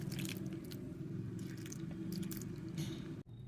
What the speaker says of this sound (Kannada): ಇದನ್ನೆಲ್ಲ ಸ್ವಲ್ಪ ಉಗುರು ಬೆಚ್ಚಗಿರೋ ನೀರು ಹಾಕಿ ಕಲಿಸ್ಕೋಬೇಕು